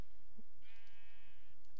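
Sheep in the game Minecraft lets out a single short, wavering bleat in the middle of the clip, clear and close over a faint background hum.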